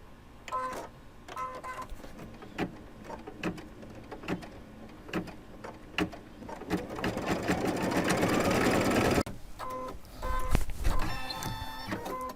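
An embroidery machine sews a satin stitch around a bunny design, running close by with rapid mechanical clatter and rhythmic ticks, building to a dense whirring run before it stops.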